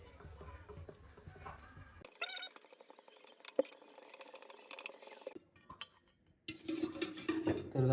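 Jaggery syrup being stirred in a pan, with a spoon scraping and clinking against the metal in irregular bursts, a quieter patch in the middle, then louder clatter toward the end.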